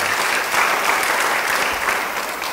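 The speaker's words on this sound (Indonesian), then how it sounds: "Beri tepuk tangan bagi Tuhan" Dense, loud clapping from a church congregation, sustained and even across the whole stretch with no voices standing out.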